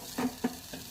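Masala frying in a pan for a sprouted horse gram sambar, three quick soft sizzling stirs in one second, close but fairly quiet.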